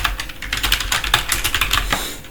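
Keys on a computer keyboard are pressed in a quick run of close, crisp clicks and taps, like brisk typing, with no voices.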